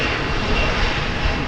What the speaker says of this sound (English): Here goes American Flight